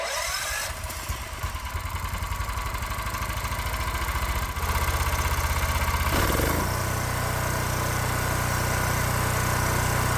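A 212cc Predator small engine runs steadily through a very quiet exhaust on a gasoline-electric build, a continuous close putter with a brief shift in tone midway, no talking.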